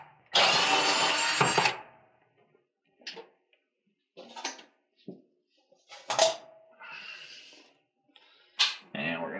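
Phillips screws are being removed from the back corners of a Maytag stove under repair for a no-bake igniter fault. Close metallic clunks, rattles and short tool bursts come in irregular separate bursts with quiet gaps between them.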